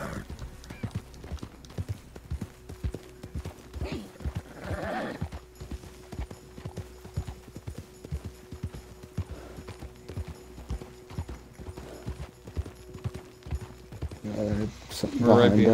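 Rapid, steady hoofbeats of a galloping horse in Red Dead Redemption, with voices talking over them and a brief louder burst near the end.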